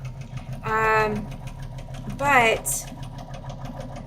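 A sewing machine stitching fabric hexagons for a quilt, two short whirring runs of stitching separated by pauses, with a voice speaking briefly over the machine.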